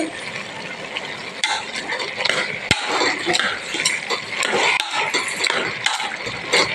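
Potatoes being stirred in a pan, with steady scraping and clinking of a utensil against the metal over a light sizzle; the mixing continues throughout, with a few sharper knocks along the way.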